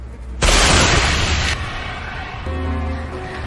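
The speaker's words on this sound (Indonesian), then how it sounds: "akan menembakkan pistol suar untuk menandai lokasi akurat kapal selamnya" A flare gun fires with a sharp, loud blast, followed by a hissing rush that cuts off abruptly, then a low lingering hum.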